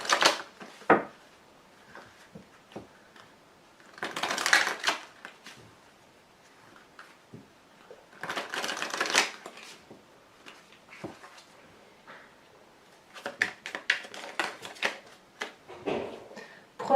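Tarot cards are shuffled and dealt onto a table, giving bursts of riffling and soft slaps between quieter pauses, close by and with no talking.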